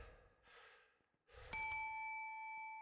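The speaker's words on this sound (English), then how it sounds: "Ringing that spooky bell." A spooky bell in the Phasmophobia ghost-hunting game rings once, clear and sustained, after a few soft breaths, then fades slowly.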